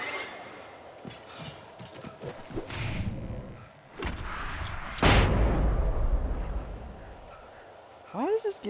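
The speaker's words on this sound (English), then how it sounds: "these damn flashbangs" Flashbang grenades going off in the video game Alan Wake, a few sharp broadband bursts with the loudest near the middle, set against game noise and a voice talking.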